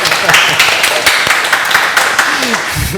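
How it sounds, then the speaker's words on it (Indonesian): Audience claps loudly and steadily at a talk on early childhood education accreditation, close, dense applause with a few sharper individual claps. "Kita berikan ucapan terima kasih dan tepuk tangan untuk Bapak Jamil."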